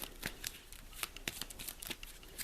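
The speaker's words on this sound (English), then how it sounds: "We'll give his deck a bit of a shuffle." A deck of board game combat cards being shuffled, a quick, soft series of riffling flicks and snaps repeating at an uneven rhythm, close and fairly quiet.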